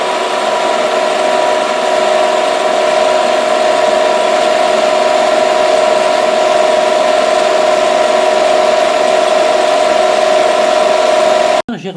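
A circular saw or lathe-type circular machine cutting a part on a prototype holder under manual feed, giving a loud, steady whine with a strong sustained tone and constant broadband noise for about twelve seconds, stopping abruptly at the end.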